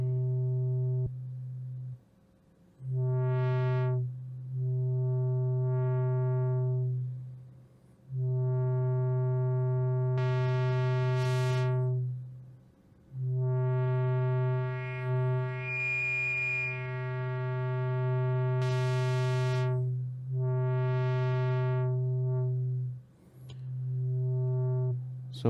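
A Moog Model 15 synthesizer iPad app plays a steady low tone through its filter module while the frequency range is adjusted, bright harmonics sweeping up and fading in repeated phrases, broken by brief gaps, loud and close without speech.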